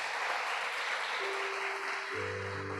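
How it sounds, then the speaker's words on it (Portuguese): A church congregation applauds during a Portuguese-language evangelical service, with a steady, dense wash of clapping that sounds somewhat distant, and a low sustained organ or keyboard tone entering toward the end. "Você pode dar um aplauso bem bonito para Jesus?"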